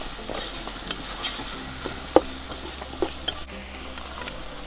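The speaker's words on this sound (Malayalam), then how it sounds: "ഇതൊന്ന് മിക്സ് ചെയ്തെടുക്കാം നമുക്ക്." Chinese-style fried rice being stirred in a hot pan, a soft continuous sizzle broken by scraping and a few sharp clinks of the spoon against the metal, with no voices.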